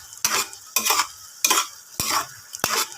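Spoon scraping and stirring food in a pot, five distinct strokes with a soft bubbling simmer in between, close up and no talking.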